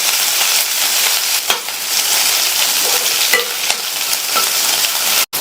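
Mustard seeds, urad dal, chopped onion and curry leaves sauté in hot oil as a loud, close, continuous sizzle. A spoon stirs and scrapes through it now and then, and no one speaks.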